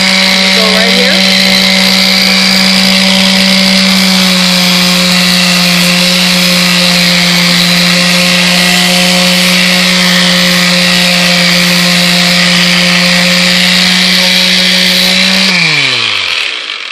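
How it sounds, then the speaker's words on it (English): A power sander works a fiberglass surface, giving a loud, steady high-pitched motor whine that holds constant before spinning down at the end. "All right, we're gonna sand. Let's see how this looks."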